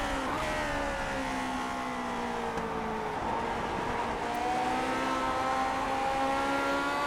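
A Lotus 49 race car engine in iRacing drones loud and steady as the throttle is feathered through a corner at Road Atlanta, its pitch wavering up and down without talk.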